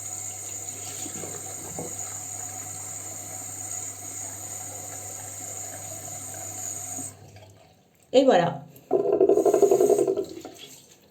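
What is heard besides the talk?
bathroom sink tap running water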